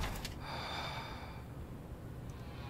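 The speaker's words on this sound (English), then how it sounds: "That's some breathing action." Heavy, raspy breathing from the horror game Summer of '58, a couple of sharp gasping inhales up front and then a long breathy exhale, close and faint.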